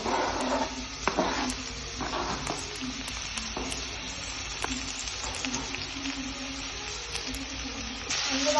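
Chopped onion, tomato and green chili sautéing in a pan for Maggi noodles: continuous close sizzling with scattered stirring clinks and scrapes, no talk.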